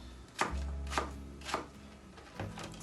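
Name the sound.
chopping cooking apples into chunks with a knife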